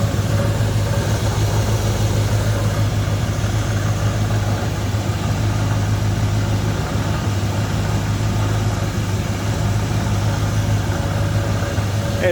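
A 1988 Chevrolet Monte Carlo SS with its 305 V8 sits at low idle after warming up, giving a steady, loud, close-up rumble with an even, unbroken drone.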